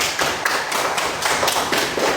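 Classroom of students applauding for a classmate named Reza during an Islamic studies lesson, brisk dense clapping close by with sharp irregular slaps and a few thumps, loud and steady with no talk.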